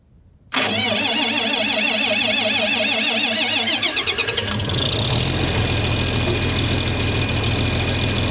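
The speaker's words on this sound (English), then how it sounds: "this tractor does not like to start if it's like below 60 even. So see if we can get her started here." A tractor that starts reluctantly in cold weather cranks with a rapid rhythmic churn, then catches and settles into a loud, steady engine rumble close by.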